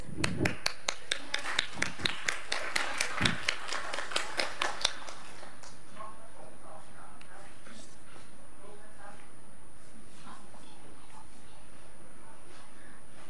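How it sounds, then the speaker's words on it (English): An audience at an agriculture and food deans meeting gives a round of applause, with sharp, sparse claps for about five seconds. The clapping then fades into low room noise and voices. "Can I have a round of applause, please?"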